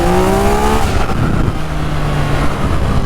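A Yamaha XSR900 motorcycle fitted with a MIVV exhaust revs loudly up close, a rising engine whine that drops away and settles into a steady roar.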